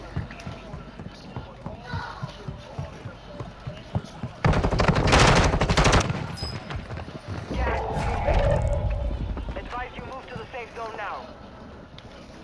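A sharp burst of rapid gunfire in Call of Duty: Modern Warfare II during a rooftop firefight, loud for a couple of seconds amid game sounds and talking players.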